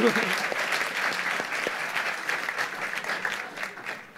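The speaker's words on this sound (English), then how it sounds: "I request you to give a big round of applause for them for coming here" Audience applause at a science slam in Esslingen, a steady wash of clapping from a crowd sustained for about four seconds, with some faint talk and laughter under it near the start.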